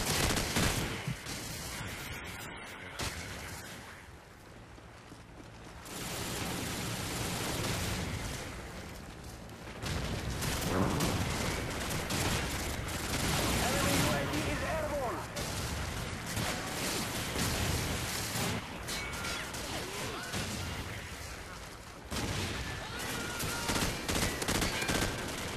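Rapid bursts of automatic gunfire and explosions from a Call of Duty 4 match fill the scene almost continuously, loud and dense, with no voices.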